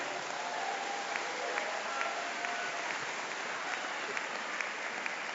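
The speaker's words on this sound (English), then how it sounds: "So a big round of applause for those three ladies that organized tonight." An audience at a middle school eighth-grade celebration applauds the organizers, a steady wash of clapping from a large room of people that holds evenly throughout.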